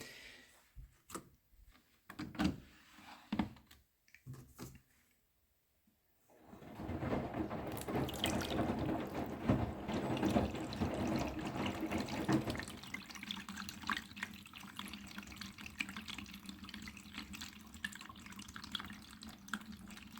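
Water pours and splashes into a washing machine during a 40-degree bleach white wash, a steady filling rush following a few seconds of scattered clicks and a brief pause.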